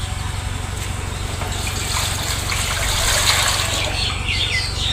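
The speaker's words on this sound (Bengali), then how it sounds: "এই যে আছে গরম পানি, এই গামলাতে এখন ঢালবো।" Hot water poured into a basin, meant for soaking a sick duck's feet; a close, continuous splashing gush that swells slightly as the pour goes on, with a faint bird chirp in the background and no talking.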